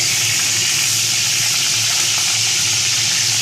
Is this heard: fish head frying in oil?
yes